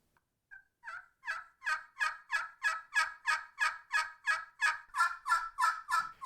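A turkey call imitating a hen turkey's yelp sounds a string of about fourteen sharp, nasal yelps in a steady rhythm, building slightly in loudness, close and alone with no talk.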